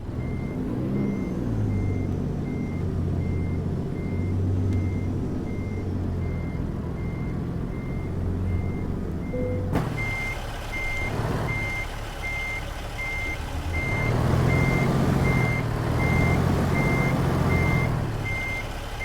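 A truck in American Truck Simulator backing into a rest area: evenly spaced reversing beeps repeat throughout over a steady low engine drone, with the engine growing louder toward the end.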